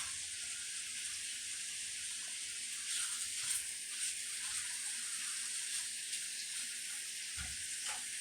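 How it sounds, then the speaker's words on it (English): Bacon crisps in a pan with a steady, soft sizzle and crackle, a few small pops breaking through near the end. "once I get this bacon crisped up and fried"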